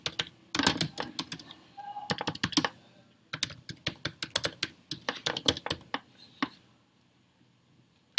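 Typing on a computer keyboard, close and crisp, with fast bursts of clicking keystrokes separated by short pauses, fading out toward the end.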